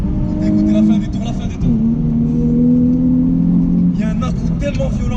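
A Nissan 350Z engine revs hard toward high rpm from inside the car, a loud, steady mechanical drone with a brief dip during a gear change, with someone talking over it.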